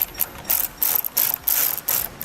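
A ratchet with a 5/16 socket drives self-tapping screws into a towed vehicle's front rods while a tow wiring kit goes in, giving five or six quick bursts of loud, close ratcheting clicks with short gaps between them.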